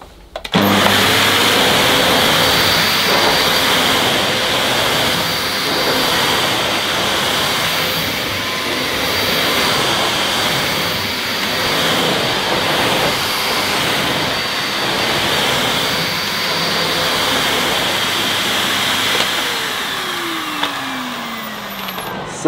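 A Miele Art vacuum cleaner runs steadily on carpet, a loud, continuous motor whine and airflow roar that holds for the whole stretch with slight rises and dips as it is pushed, no voices present.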